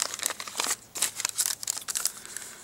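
A slip of paper is crinkled and handled up close in quick, irregular rustling bursts, with no voice over it.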